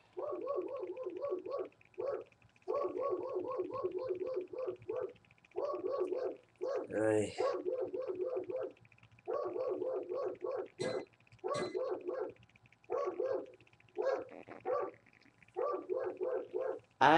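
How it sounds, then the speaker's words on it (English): A dog barks repeatedly in close bursts of rapid yips and woofs with short pauses, fairly loud, with a brief whine or squeal partway through. "Sorry, that's my dog."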